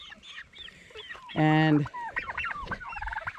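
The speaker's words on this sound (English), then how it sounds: "So these here are the chicks that we hatched." Young farm-hatched chicks on the ground in an orchard give a run of close, busy chirping peeps, with a loud, sustained, harmonic fowl call breaking in briefly midway.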